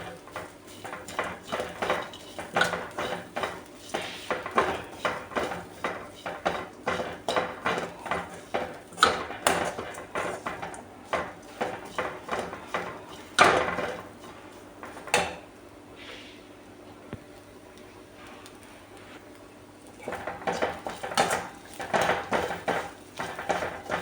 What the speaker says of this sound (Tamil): தேங்காயும் புளியும் நான் இதில் இப்போ சேர்த்துருக்கேன். இதை நல்லா நம்ம வறுத்துக்கலாம்